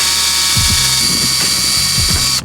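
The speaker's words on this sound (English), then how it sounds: "Just gonna start drilling." A power drill whines steadily at close range, drilling into a Honda Civic Si's body, its motor pitch rising and falling in short bursts as it bites into metal, then cuts off.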